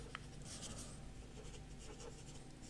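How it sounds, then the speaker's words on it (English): A graphite pencil blends across textured paper with a light touch, producing a soft continuous scratchy rubbing, close and quiet throughout. "this graphite powder that's down, you can keep blending and smoothing this forever"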